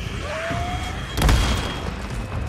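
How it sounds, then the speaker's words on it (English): A proximity bomb goes off in the video game Days Gone, a single heavy boom with a crackling burst that rises over steady game ambience and fades quickly. "Proximity bomb."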